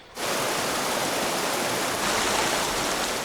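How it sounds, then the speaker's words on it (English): River rapids rushing past a canoe on a wilderness journey, a loud, dense, continuous roar of fast water starting abruptly and holding steady throughout. "The river's picking up speed here."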